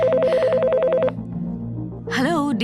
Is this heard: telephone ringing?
yes